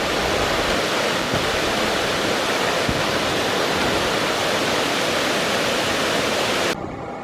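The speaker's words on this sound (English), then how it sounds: "This creek is really rolling." A fast-flowing creek beside a river rail trail rushes in a loud, continuous broadband wash, close and unbroken, with no voices over it.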